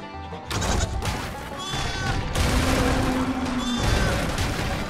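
In the Skylanders Trap Team mini-game Angry Sheeps, cartoon sheep bleat loudly among booms and crashing impacts, a busy, dense burst of game effects with little talk.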